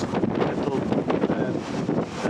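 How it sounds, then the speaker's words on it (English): Strong, gusting wind from Storm Darragh blows off the cliffs at Bempton near Bridlington, East Yorkshire, buffeting the microphone in a loud, continuous roar with no pause throughout. "that is getting the full force of the wind, because it's coming off the cliffs"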